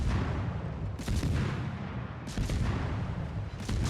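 Naval secondary battery guns firing from a destroyer in World of Warships. Heavy booming shots come in a few distinct loud blasts over a constant rumbling roar of battle, with no voices.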